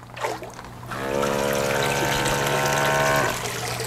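An Aiper Smart AIPURY600 cordless robotic pool cleaner with its pump running after being lifted from the pool, giving a loud steady whirring hum with water gushing and trickling, preceded by a brief splashy moment.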